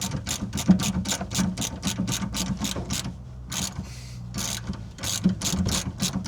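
Ratchet clicks come steadily and fast while an anti-roll bar drop link nut on a Ford Transit Connect MK1 is loosened, with a brief pause midway before the rhythmic ratcheting resumes, close up and moderately loud.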